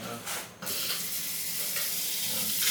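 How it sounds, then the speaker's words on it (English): Pepper sauce for homemade Tabasco-style hot sauce cooks in a pan, giving a steady close sizzle and bubbling hiss that fills the whole stretch, with a brief stirring scrape near the start. "we're gonna let this simmer a little while"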